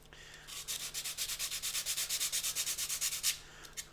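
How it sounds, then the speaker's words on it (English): Steady rhythmic rasp of sandpaper stroking a wooden bevel on a model Aviatik (Berg) D.1 aircraft, about twenty quick back-and-forth passes, close and clear with no voices. "obviously when sanding"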